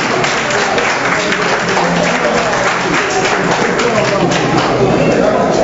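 Audience applause at an Ivorian community presidential election debate in New York, a loud, dense wash of clapping filling the whole clip without a break.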